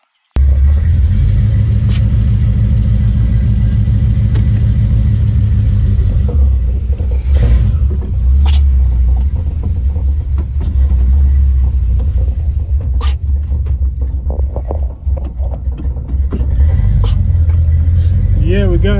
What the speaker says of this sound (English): we got her started and her super low idle is kicking back